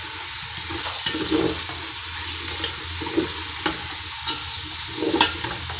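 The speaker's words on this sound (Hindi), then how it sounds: "यहाँ पर मैं अब चिकन को करती हूँ अच्छी तरह से सॉटे और इसे मैं अच्छी तरह से फ्राई करती हूँ" Chicken sautéing and frying in a pan for pulao gives a steady sizzle with occasional stirring scrapes and clatters, close and moderately loud.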